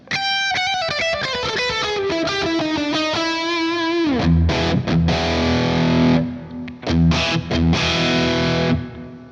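Electric guitar on the bridge pickup through a Friedman amp with a dirty, distorted tone: a descending run of ringing notes, then chunky palm-muted chords and stabs with short pauses, played alone.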